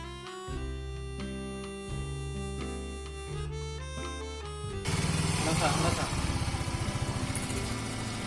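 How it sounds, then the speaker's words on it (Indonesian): A few seconds of steady tones give way to a motorcycle engine idling up close during an exhaust emissions test, a loud, even putter of rapid pulses that runs to the end. "Di sini kita akan melakukan pengujian pada knalpot motor"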